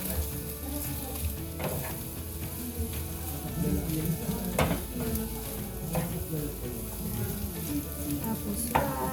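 An egg seasoned with salt and pepper fries in a pan, giving a soft, continuous sizzle with occasional sharper pops and light crackles, fairly quiet and close.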